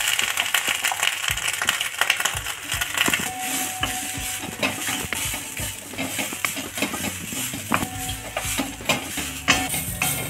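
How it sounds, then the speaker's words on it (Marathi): Grated fresh coconut being roasted in ghee in a pan for modak filling, with steady crackling, scraping and stirring textures continuing throughout, no voices. "खोबरं भाजून घेणार आहे। खोबरं भाजण्यासाठी हे तूप घातलेलं आहे।"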